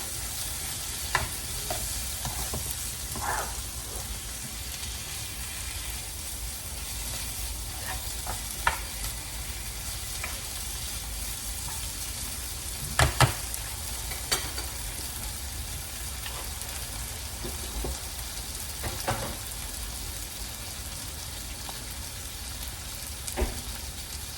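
Leftovers with added tomatoes frying in a pan, a steady low sizzle running throughout with scattered soft clinks and scrapes of stirring; no voices.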